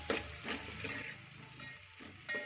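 Ingredients for Gujarati kadhi roasting in a pan: a quiet sizzle with soft scraping stirs recurring every half second or so, faint and close, with no talk.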